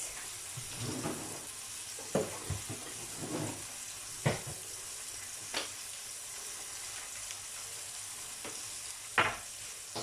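Sauce for white fish in orange juice sizzles softly in a frying pan, a low continuous bubbling hiss broken by several sharp scraping clicks of a utensil against the pan.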